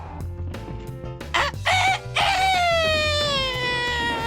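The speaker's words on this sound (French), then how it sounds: "le coq se mit à chanter à plein poumon" A rooster crows loudly at full voice in a long rising and falling call, set among barnyard noises in a children's fairy tale, with a dog sound and other animal cries heard before it.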